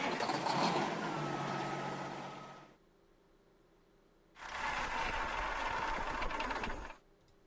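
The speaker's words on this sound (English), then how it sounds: "Engine on, engine off." A truck engine in American Truck Simulator starts and runs for a few seconds, then cuts to silence, and after a short gap starts again and runs before shutting off, two clean on-off cycles with no talk.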